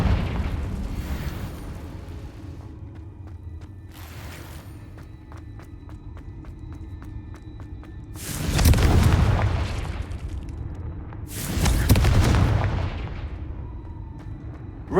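Confringo fire-blast spell explosions in the PC game Hogwarts Legacy: two loud, broad booming bursts about three seconds apart over a low ambient rumble and faint clicks.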